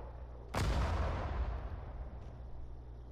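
A single artillery gun fires in the World War II strategy game Sudden Strike 4, set during the invasion of Iwo Jima: one sudden loud boom with a long rumbling decay that fades over a few seconds.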